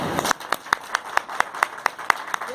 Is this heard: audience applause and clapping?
yes